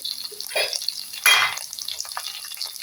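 Roughly chopped onions frying in a pan, a steady hiss with a brief louder sizzle as they are stirred, and no voices.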